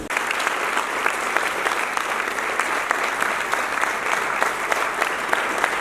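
An audience claps for a visiting group from the United States, a sustained, even roar of many hands with a few sharper individual claps standing out over the crowd.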